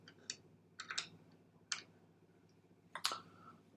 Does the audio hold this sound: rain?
no